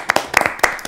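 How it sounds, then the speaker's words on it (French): Studio audience at a live French show applauds with a handful of quick, close, crisp claps in less than a second, without speech. "Ah, on applaudit."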